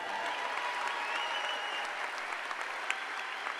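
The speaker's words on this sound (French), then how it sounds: "on peut peut-être l'applaudir" Steady audience applause at a conference plenary session, a dense wash of many hands clapping at an even level throughout, with no voices standing out.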